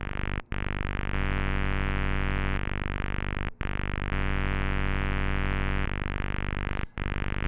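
Excitebike video game audio, a loud continuous buzzy synthesized engine drone that steps between pitches, broken by three brief dropouts.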